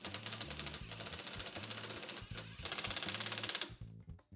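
A driver sets Tapcon screws through a cabinet into a concrete wall with a rapid mechanical rattling hammer, steady for several seconds before stopping abruptly, close but fairly quiet.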